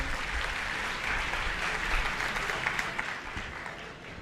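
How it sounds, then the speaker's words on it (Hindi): Sustained applause from a school audience welcoming Delhi's education minister at a government school inauguration, steady dense clapping throughout. "मेरा अनुरोध मैडम से संबोधन के लिए जोरदार तालियों से एक बार आप स्वागत करें"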